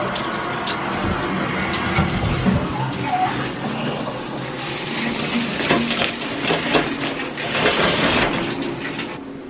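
A shower runs steadily throughout, a continuous broadband hiss of falling water with slight surges, fairly close and without any talking.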